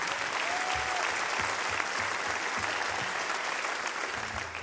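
Sustained concert applause from the audience at a MüpArt hall show, many hands clapping in a thick, even roar, with faint low stage tones underneath.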